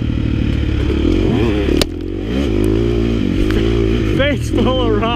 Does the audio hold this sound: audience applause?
no